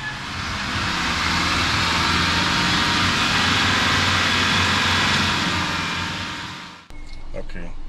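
A car engine held at about 3,000 RPM for an emissions test at a Philippine vehicle registration center, a loud steady roar that drops away abruptly near the end to a quieter idle with clinks.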